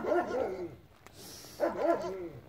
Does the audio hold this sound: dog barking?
yes